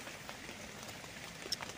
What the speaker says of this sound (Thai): แต่ฝนห่ำเนาะ